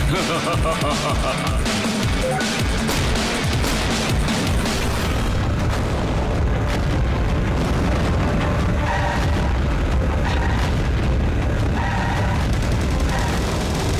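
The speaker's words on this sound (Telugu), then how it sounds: "ఈ బాంబ్ బాస్ బాంబ్ బ్లాస్ట్ ని ఇప్పుడు నువ్వు చూస్తావు" Cartoon bomb blasts in an animated kids' action film, dense continuous booming and rumbling explosions mixed with gunfire-like bursts and soundtrack, loud throughout without a break.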